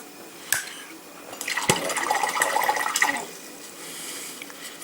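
A paintbrush swishes and rinses in a water pot while painting a Space Hulk Heavy Flamer Terminator miniature, a soft splashing burst of a second or so after a light tap, alone and quiet.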